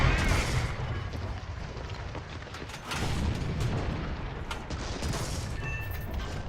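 A tank gun firing at a T-34 turret in the War Thunder video game, with heavy booming shots and crackling distant gunfire over a dense rumbling battle background, one loud blast near the middle.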